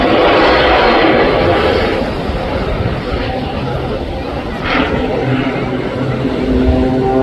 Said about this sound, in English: the airframe itself is not stock Pitts S1, is it? It's a Pitts S2E